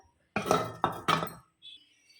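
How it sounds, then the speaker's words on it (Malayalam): Pots and dishes being washed in a home kitchen, with three loud clattering bursts of metal and crockery knocking together close by, then a brief faint clink at the end. "അപ്പോൾ ഞാനിതൊന്ന് പാത്രങ്ങളൊക്കെ ഒന്ന് കഴുകി എടുക്കട്ടെ കേട്ടോ"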